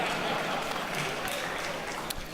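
Applause fills the Louisiana legislative chamber at the 2015 session opening, a broad, dense wash of many hands clapping at once, steady and fairly distant, with some voices mixed in.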